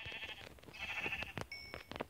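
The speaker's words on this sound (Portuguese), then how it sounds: "Peguei aquela ovelha" Several sheep bleats in a Craftsman block-building video game, a string of wavering cries at moderate loudness with no talk over them.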